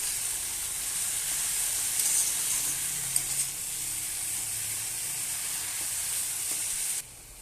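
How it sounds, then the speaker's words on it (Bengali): Prawns and drumstick leaves fry in a pan with a constant bright sizzle and hiss, broken by a few soft scrapes of stirring, before the sizzle abruptly drops near the end. "তো আমি এখানে শাকও দিয়ে দিয়েছি, এবার ভালোভাবে নাড়বো আমি।"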